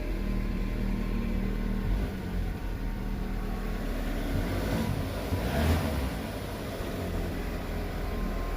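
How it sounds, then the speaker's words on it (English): A VW Golf MK6 engine idles quietly and steadily for several seconds, a low continuous hum close by with a faint light rattle, and no voices. "Sounds like there's a little rattle actually."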